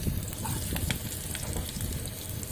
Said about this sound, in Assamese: পিঁয়াজখিনি আমি লাৰি দিছোঁ যেতিয়ালৈকে পিঁয়াজখিনি গোল্ডেন ব্ৰাউন নহয়।